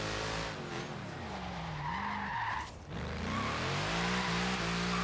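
A racing car engine in Forza Horizon 3 roars and shifts pitch while tires skid and squeal, loud and close, with no talking.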